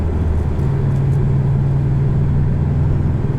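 A 2019 Porsche 718 Boxster S with a single-turbo engine accelerates, a loud sustained low engine drone with a rising tone heard from inside the car, no talking.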